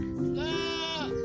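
A goat kid gives one insistent, drawn-out bleat close by, rising and holding for about half a second before breaking off.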